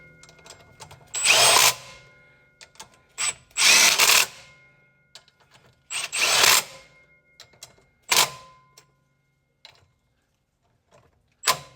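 Power tool driving and tightening clutch cover bolts on a Kawasaki Ridge during a primary clutch spring installation, several short close whirring bursts separated by pauses, with a few faint clicks.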